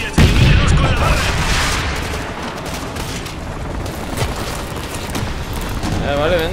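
Bursts of rapid gunfire and heavy booms sound through a dense, noisy battle mix in Call of Duty: Modern Warfare 2 Remastered, with voices blending into the chaotic din throughout.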